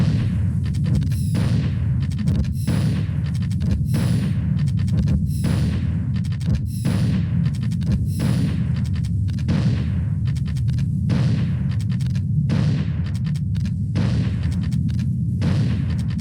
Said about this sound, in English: Let's see how many missiles I can fire at the same time.